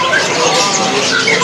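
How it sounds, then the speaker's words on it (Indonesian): A small songbird, a star blue canary, chirps and trills in a continuous busy stream, fairly close, over a noisy bird-market background with no voices. "bunyi dari burung kenari yang star blue ini"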